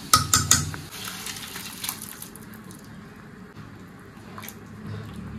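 Boiled chickpea dal poured into a pan while cooking with green banana, a wet splattering slosh with a few clattering knocks of pot and utensil at the start, then settling into a quieter simmer.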